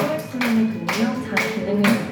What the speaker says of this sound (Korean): 손바닥 박수 박수를 쳐줘요